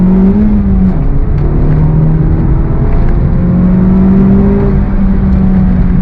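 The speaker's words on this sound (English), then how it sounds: "Second gear on throttle, here we go." A 2023 Honda Civic Type R engine roars loudly and steadily close by, pitch climbing slightly as it accelerates through second gear.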